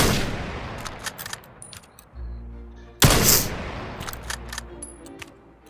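Sniper rifle fire in the VR shooter Vail: a single heavy, loud shot rings out mid-clip, set among scattered distant gunfire and clicks, with no talking.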